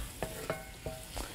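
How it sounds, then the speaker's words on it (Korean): Garlic and onion stir-fry in a pan for tomato sauce, four quick scraping strokes over a quiet, steady sizzle. "마늘의 향이 조금 부드러워질 때까지 살짝 볶아주실게요."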